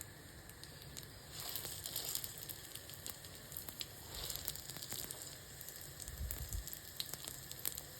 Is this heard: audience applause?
no